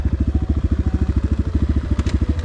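An enduro motorcycle engine chugs loud and close while riding, a fast, steady low-pitched pulsing beat with a brief burst of higher noise near the end.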